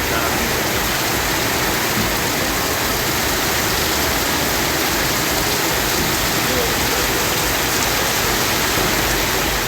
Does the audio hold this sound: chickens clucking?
no